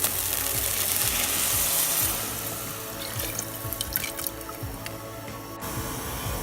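Water is poured into a pot of rice for pilau or biryani: a steady rushing pour at first, then softer splashes and scattered drips as it settles.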